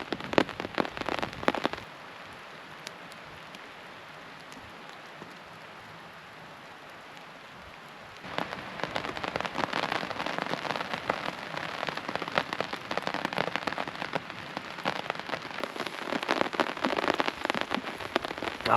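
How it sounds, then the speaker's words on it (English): Rain hammers down on a camping tarp in the woods, a loud dense patter that thins to a softer hiss for several seconds before surging back into a heavy, crackling drumming. "sitting under the tarp with the rain hammering down."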